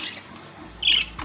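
A budgerigar parakeet gives a single short, shrill squawk close by, with faint soft scratching around it and no speech.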